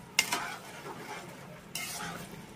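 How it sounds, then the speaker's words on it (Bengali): A spoon scrapes and clinks against a pan while a soya chilli mixture is stirred, with two short bursts of stirring over a faint sizzle. "সবকিছুকে একবার ভালো করে মিশিয়ে দেব।"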